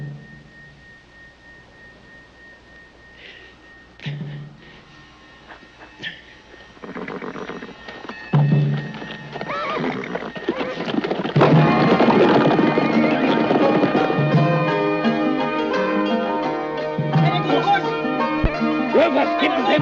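Horses' hooves clatter and a horse whinnies amid rising commotion, growing louder and busier toward the end with rumbling movement and brief shouts.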